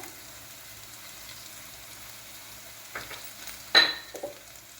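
Soft sizzling of turmeric and chilli powder sautéing in hot oil for potato sambar, quiet at first, then a few louder bursts of stirring and spattering near the end.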